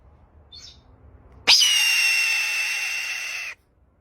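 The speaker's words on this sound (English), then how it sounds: "Number 1. Red-tailed hawk." A red-tailed hawk gives one loud, harsh, drawn-out scream that slides slightly downward and lasts about two seconds, close and clear above faint background noise.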